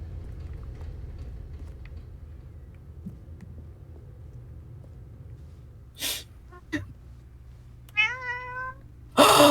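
A cat meows a few times near the end, short separate cries with a rising, wavering one among them, over a low steady room rumble and a quiet stretch before.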